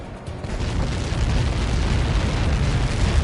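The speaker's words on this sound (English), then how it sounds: "How many got caught in that explosion?" A massive blast in Ace Combat 7 rolls out as a loud, sustained, broadband roar with deep rumbling, filling the whole moment without a break.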